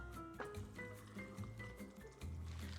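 Water pours into a drink bottle close up, a soft continuous liquid gurgle with small rising fill tones and a few light squishy knocks.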